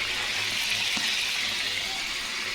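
Onions frying in a large frying pan, a steady, dense sizzle that stays even and close throughout with no talking.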